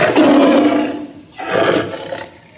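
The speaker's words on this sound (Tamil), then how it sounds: "இது புலி உருமும் சத்தம்." A tiger roars twice, a long, loud, rumbling roar followed after a short pause by a second, slightly weaker one, with no voices over it.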